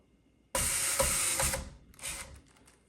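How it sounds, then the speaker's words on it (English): A power drill whirs loudly for about a second, dips briefly, then runs again in a shorter burst before stopping; nearby and alone, driving screws while installing a deadbolt, doorknob and latch. "good handy drill"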